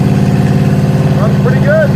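A Cadillac V8 idles steadily with a deep, even low rumble throughout, while voices chatter briefly over the engine.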